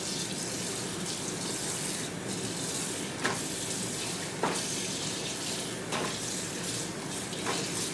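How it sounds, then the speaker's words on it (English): Warm water runs steadily from a sink tap onto a green dress being rinsed of excess dye, a constant hissing stream with a few brief splashy changes, close and fairly loud, no speech. "I have it all the way warm coming out at the sink. We're going to run some water on it."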